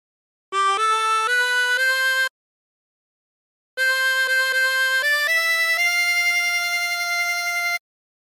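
A harmonica plays a short phrase from the folk song Sloop John B, in two loud, steady bursts of sustained reedy notes stepping through a few pitches, separated by a pause of silence.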